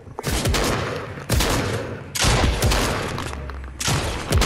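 Sniper fire in the video game Fortnite: three loud, sharp gunshots spaced about a second apart, each with a long echoing decay, no speech over them.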